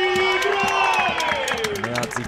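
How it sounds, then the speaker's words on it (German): At a Regionalliga Bayern football match between TSV Buchbach and TSV 1860 München, a crowd claps and applauds as a player is substituted off, heard under a commentator's talk. "Er hat sich das mehr als verdient, seinen Applaus."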